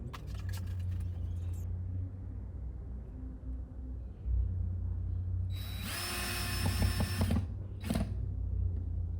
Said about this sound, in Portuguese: Aí já estou parafusando o guarda-roupa na base.